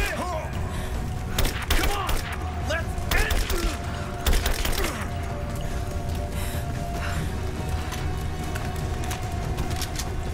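Gunfire from Rise of the Tomb Raider with repeated cracks and booming bursts, some in quick clusters, over a steady game soundscape, with a voice talking throughout.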